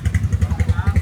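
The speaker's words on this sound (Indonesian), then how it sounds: "Ada Harley lewat." A Harley-style motorcycle engine thumps in a steady, rapid low pulse, its loping beat loud and close over a moment with faint voices in the background.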